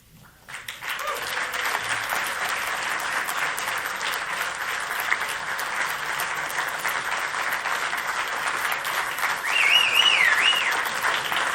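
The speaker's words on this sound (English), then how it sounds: "that is the applause that you hear for Megan Davis reading the Uluru Statement from the Heart" Sustained crowd applause after Megan Davis reads the Uluru Statement from the Heart, a broad, even roar of many hands building quickly and holding strong throughout, with a faint whistle or cheer rising near the end.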